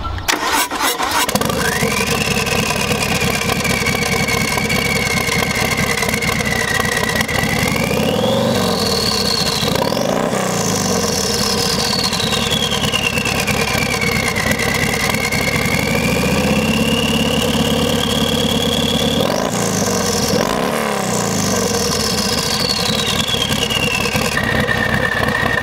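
Lowrider ST motorcycle fitted with a Trask turbo starts up and runs close by, settling into a steady idle with two rising-and-falling revs and a whistling turbo spool over the engine rumble.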